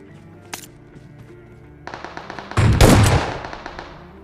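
Gunfire from a shotgun in the mobile game PUBG Mobile. A few faint pops come first, then one loud, close blast with a short roaring tail, set over a steady low game ambience.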